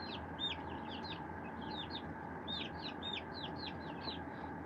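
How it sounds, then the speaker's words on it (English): Small chickens in a pen give a run of quick, high, chirpy clucks and peeps that repeat steadily over a constant low background hum, with no talking. "These little chickens."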